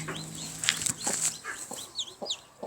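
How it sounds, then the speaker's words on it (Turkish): Soft, high chirping peeps from newly hatched yellow chicks, several short calls scattered over a quiet background, close by. "İki tane sarı civciv çıktı toparlak çok tatlı"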